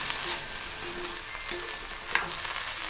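Mutira thoran with banana stem being stirred and fried in coconut oil, a steady close sizzle with soft scraping of the spatula and one sharper clink near the end, no voices.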